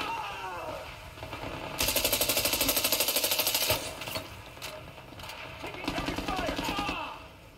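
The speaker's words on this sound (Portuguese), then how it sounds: "É tiro!" Rapid bursts of gunfire in the VR game Zero Caliber, a sustained automatic volley followed by more scattered shots, with a voice talking in the background.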